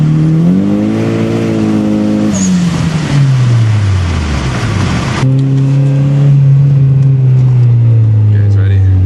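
Turbocharged Honda Civic Si EP3 with a Greddy turbo kit at 17 psi pulls hard in third gear from a roll, its loud engine note rising steadily in pitch, with a gear-related dip before climbing again, heard from inside the car.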